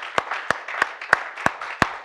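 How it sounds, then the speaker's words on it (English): A church congregation claps together during a Sunday service, giving six sharp, evenly spaced claps that ring out clearly over a soft background murmur. "Give the Lord a hand clap this morning."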